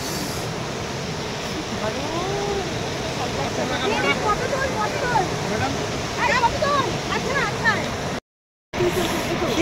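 Rangit river water rushing steadily over rocks near Darjeeling, a continuous broadband wash heard close up, with people chatting and calling out over it throughout.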